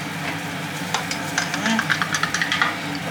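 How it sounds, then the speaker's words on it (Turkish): A spoon stirs a pineapple-flavoured collagen drink in a glass, giving a quick run of light, close clinks against a faint room background. "Şimdi güzel karıştıralım."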